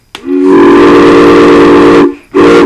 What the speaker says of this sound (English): So that's my train whistle.